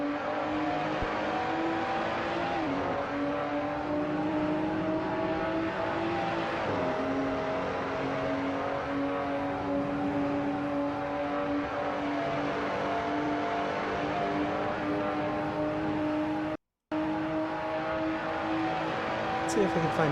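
Engines of a pack of BMW race cars in a sim racing game at Portimao drone steadily with sustained tonal whine and shifting pitch, continuous and loud across the clip with a brief dropout near the end.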